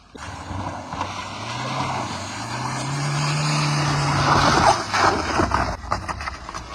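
A front-wheel-drive car, loaded with four people, labours up a steep slope. Its engine drones in a steady, strained tone that slowly rises in pitch and then falls away, with rough, noisy background around it.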